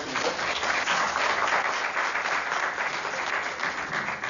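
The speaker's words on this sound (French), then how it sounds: "Des acclamations." Audience cheering and applause at a heated debate in Johannesburg on dialogue in the DRC, a dense, loud, steady wash of clapping filling the whole stretch without talk.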